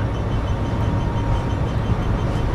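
An EMD diesel locomotive engine in a PC train simulator set on the Great Western Express route rumbles steadily with a dense, continuous low drone and broadband noise, loud and unbroken throughout with no talking.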